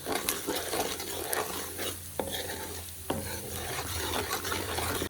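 Steady crackling sizzle of hot oil with red chilli, turmeric and salt stirred in with scraping strokes for mustard greens, close and continuous, with a couple of sharp utensil taps on the pan.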